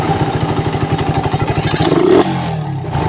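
A motorcycle engine fitted with a Koso 28mm carburetor revs steadily at close range with a throbbing, pulsing idle-to-mid rhythm, rising briefly near the end before dropping off abruptly, with some mechanical clatter.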